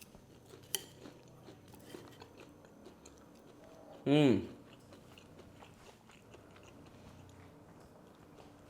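Crunchy salt and pepper squid, fried chilli-style, is bitten with a single loud, crisp crunch close to the microphone, set amid quiet room sounds and a brief spoken word before it.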